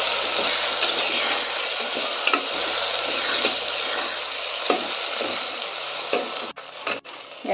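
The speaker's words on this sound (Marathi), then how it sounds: "यात चिरलेले टोमॅटो छान परतून घ्यायचे आपल्याला." Chopped tomatoes sauté in hot oil with a little turmeric for a pulao, giving a steady close sizzle throughout. A spatula scrapes and stirs the pan with soft repeated knocks, and the frying briefly cuts out near the end.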